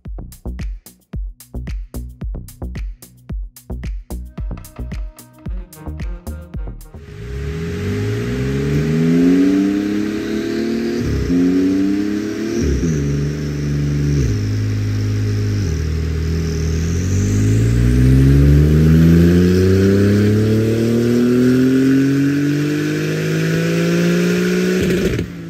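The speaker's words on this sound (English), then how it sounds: "we'll do a ramp run on the dyno, maybe a fourth or fifth gear pull all the way up to redline" A Porsche 992 Turbo S on a dyno: a quick ticking idle gives way to a loud, sustained engine pull climbing in pitch toward redline in a high gear, with a brief dip mid-run before revving on.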